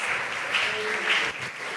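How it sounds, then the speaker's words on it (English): Sustained audience applause after a student speech, dense and even clapping from a crowd with brief surges, fairly close and uninterrupted by talk. "Big round of applause, everybody."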